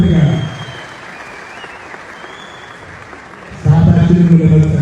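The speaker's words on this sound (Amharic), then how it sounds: "ጭብጨባ ሞራል ድጋፍ ያስፈልጋል" Applause at a film premiere launch: a loud burst of clapping, fading to a quieter stretch of crowd noise, then swelling again near the end, with voices mixed in.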